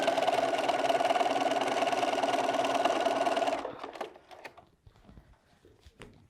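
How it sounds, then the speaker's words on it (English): A sewing machine stitches a quilt block seam in a fast, even, close whir for about three and a half seconds, then stops, leaving faint small clicks and handling noises. "I'm just going to sew that on. Go back to the machine again."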